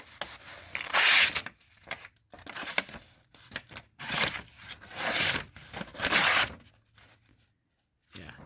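A razor-sharp Benchmade 85 Ti balisong knife slices through paper in several loud, close, raspy strokes, each a dry tearing swish separated by short pauses.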